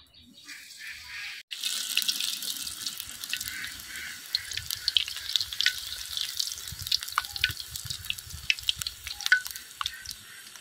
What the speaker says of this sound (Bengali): আলুর চিপটা আমি তেলের মধ্যে আস্তে আস্তে জাল দিয়ে ভাজে নিই।